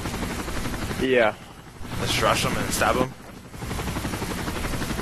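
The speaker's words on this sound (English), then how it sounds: "wait for the helicopter to pass, though" Low, continuous rotor drone of a helicopter passing in Call of Duty: Modern Warfare 3, rising and dipping over several seconds beneath people talking.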